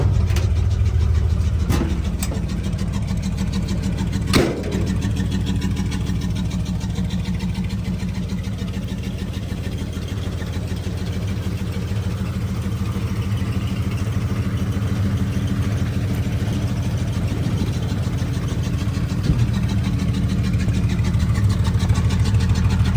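A 1953 Chevy pickup engine idling steadily after a cold start, a loud, low, even rumble held throughout with a couple of brief knocks near the start.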